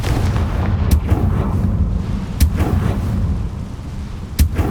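Confringo spell blasts in the Hogwarts Legacy video game: three sharp, booming explosions spaced a couple of seconds apart over a low rumbling game background.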